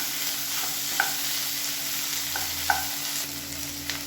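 Onions, tomatoes and horse gram sautéing in a pan for a Tamil-style chutney: a steady low sizzle with occasional spoon scrapes and light clinks, close up and with no one talking.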